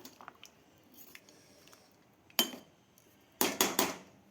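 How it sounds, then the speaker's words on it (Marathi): Spiced mutton being stirred in a pot with a spoon: soft scraping and a few sharp metallic clinks, the loudest in a quick cluster near the end, over quiet kitchen background. "सगळं चांगलं हलवून घ्यायचं"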